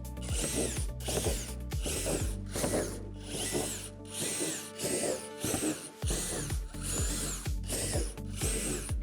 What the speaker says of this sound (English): Take the 3 roof panels and drill out the 4 holes with a 3/8 drill bit.